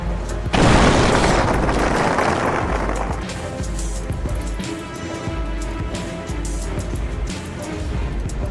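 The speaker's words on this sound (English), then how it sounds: "He ignored the signal, misjudged distance, and crashed into a completely innocent car." A truck crashes into a car at a signal, with a sudden loud, broad impact boom followed by a long rumbling, grinding wash of noise that slowly subsides.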